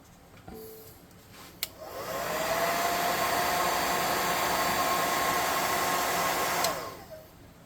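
A hair dryer dries a freshly painted Heroclix miniature, clicking on and roaring steadily at close range for about five seconds before switching off, with no talk over it.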